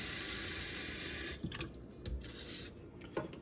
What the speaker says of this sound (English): Let's start off by filling up one of these cups with fresh water.